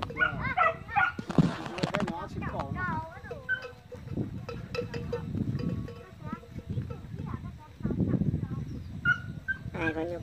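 Dog barking in a rural setting near buffalo, several sharp barks and yips scattered over about ten seconds, moderately close, mixed with someone talking throughout.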